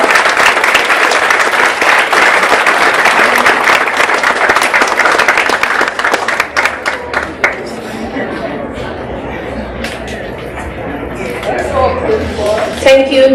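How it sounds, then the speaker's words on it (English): An audience at a Saba Day ceremony claps for an honoree, a thick steady round of applause for several seconds that then breaks into sparse, separate claps and faint crowd murmur before a few louder claps at the end. "And Mr. Martin. Please give him a round of applause."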